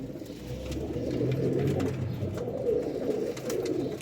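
Pigeons coo steadily in a pigeon collection, several birds overlapping in a soft, continuous throaty murmur at close range, with no talk.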